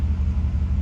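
A 1989 Mercedes W126 560SEL engine idles smoothly with a steady, deep, low rumble close to the microphone, running alone without any voices.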